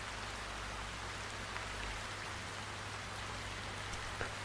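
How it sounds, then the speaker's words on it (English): Rain falling outside, a faint, even hiss of steady rainfall with a low hum beneath and an occasional soft drip, no talking. "It's raining outside."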